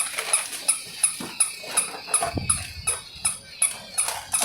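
A battery-powered somersaulting toy dog gives a quick run of regular electronic yips and barks, about three per second, close and fairly loud, with a thump partway through.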